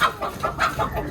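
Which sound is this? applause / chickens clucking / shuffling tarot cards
chickens clucking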